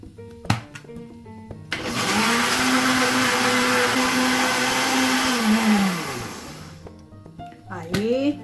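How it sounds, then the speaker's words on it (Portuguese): A countertop blender whirs through cake batter of eggs, milk and sugar for a cornmeal cake, a loud steady motor drone for about five seconds that dips slightly before stopping, with clattering handling sounds just before and after. "Agora eu vou bater."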